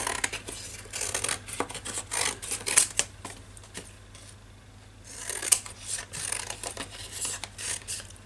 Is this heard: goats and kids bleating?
no